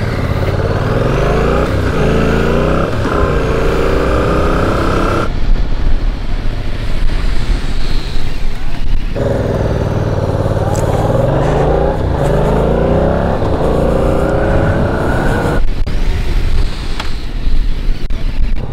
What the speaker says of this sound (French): on va faire un freinage d'urgence